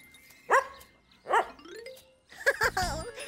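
Three short barking bursts with pauses between, the last two a pair of sharper yaps; sounds like a voice imitating a dog barking, close and clear.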